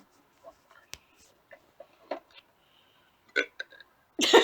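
Several short, sharp bursts like loud belches, scattered in the quiet with a stronger, longer one at the very end.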